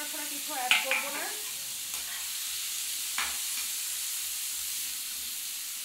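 Onions fry in a pan until reddish while being stirred, making a constant close sizzling hiss with a few scraping stir sounds near the start and a soft clink later.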